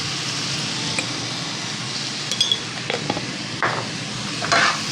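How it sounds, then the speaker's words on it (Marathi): Tomato sautés in a pan on high heat for masala pav, a continuous close sizzle with occasional stirring scrapes and soft clinks, no voices. "आता त्याच्यामध्ये घालते हा टोमॅटो पण छान परतून घ्यायचा आपल्याला"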